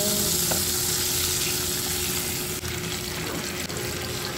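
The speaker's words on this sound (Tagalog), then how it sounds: "magigisa na tayo. Bawang at sibuyas. Maglalagay din tayo ng oil." Garlic and onion sauté in oil with a dense, continuous close sizzle that holds steady throughout, broken by a couple of faint clicks and no talking.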